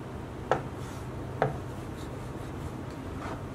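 Peeled hard-boiled eggs being roughly chopped with a knife on a board, two sharp, close knocks about a second apart over a quiet kitchen background.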